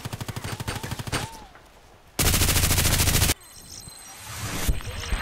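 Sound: RPK machine gun fire in Contract Wars video game

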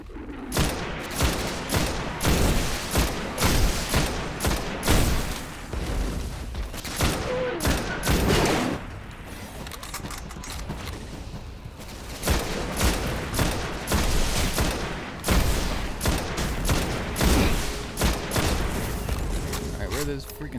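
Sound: sniper gunfire in video game Destiny

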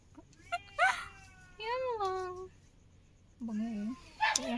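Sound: cat meowing

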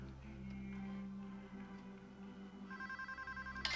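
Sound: telephone ringing in the video game PayDay 2

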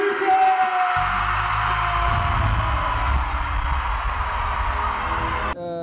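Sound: crowd cheering and applauding at a concert

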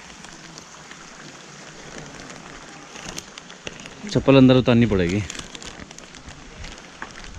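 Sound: rain falling outdoors

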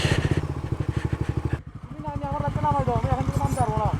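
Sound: modified Suzuki GSXR motorcycle engine idling

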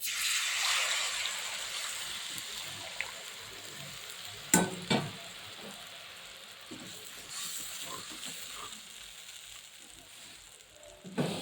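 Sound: frying in hot oil

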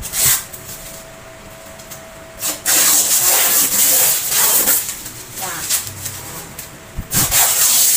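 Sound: peeling protective plastic film off an air fryer

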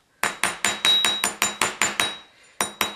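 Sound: rawhide hammer striking wire to straighten it

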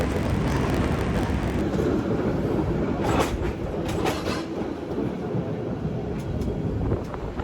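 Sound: cable car running on rails

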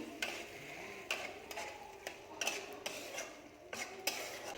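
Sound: stirring chow mein with soy sauce in a pan

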